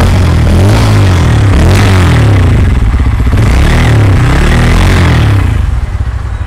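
Bajaj Pulsar N160 motorcycle engine running loud and close, idling with a steady low rumble and several quick throttle blips that rise and fall, with no voices over it.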